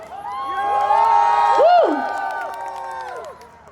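Sangeet wedding guests of the Saniyal family cheering and whooping together, a loud burst of shouts swelling and fading over a few seconds, with no words spoken.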